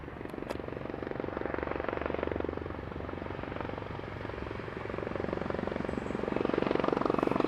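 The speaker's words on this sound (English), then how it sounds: "we got a helicopter here. Let's go to the helicopter." A helicopter thrums steadily, its rotor chopping in a rapid, continuous pulse, loud and close, with no talking.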